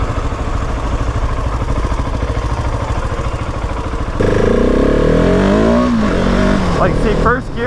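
A 2020 Husqvarna 701 SM motorcycle with a fuel dongle drones steadily at close range, then its engine note jumps and rises hard under throttle for a wheelie, with a rider's voice talking over the engine.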